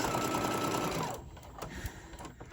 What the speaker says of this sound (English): I'm gonna go ahead and sew all the way down this other side